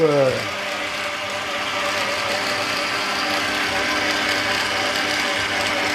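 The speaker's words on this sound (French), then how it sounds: "je mixe, je laisse le robot travailler." A food processor runs steadily while mixing bread dough, a continuous close mechanical whir with a grinding, ratchety texture that settles in after a brief start, with no talk over it.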